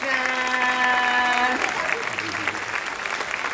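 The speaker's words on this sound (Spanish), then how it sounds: "El aplauso para Tarzán." Applause for a trained parrot at a bird show, a crowd clapping steadily and loudly throughout, with a voice talking over the start.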